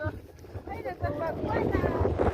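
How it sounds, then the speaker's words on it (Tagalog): Gusty wind buffets the microphone with a low, rumbling roar while people talk over it. "Uy, kanindot hangin kayo diri o."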